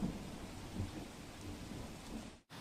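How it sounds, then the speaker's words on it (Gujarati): Steady rain falls over Surat during the monsoon, a soft continuous patter with low rumbles of thunder beneath, fairly faint and even, with a sudden dropout near the end. "વરસાદ વરસી રહ્યો છે"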